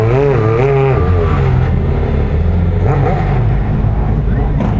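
Three DTM race cars of about 500 horsepower rev and roar nearby on the streets of Riccione, Italy, pitch sweeping up and down through gear changes, a dense continuous mechanical growl.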